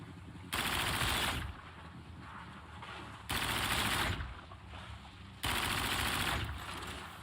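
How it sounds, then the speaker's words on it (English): Bursts of futuristic gunfire in a zombie video game, three loud sustained volleys of rapid fire separated by quieter gaps, with no talking. "These futuristic guns."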